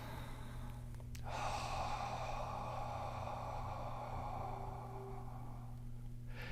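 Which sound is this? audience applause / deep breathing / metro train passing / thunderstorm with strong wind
deep breathing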